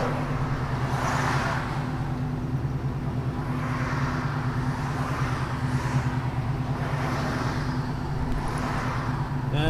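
A 1973 Plymouth Cuda with its numbers-matching 340 cubic-inch V8 rumbles steadily while driving, a continuous low engine drone with mild swells, heard from inside the car with no talk.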